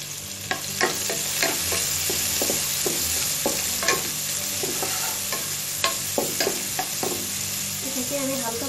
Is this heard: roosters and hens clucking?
no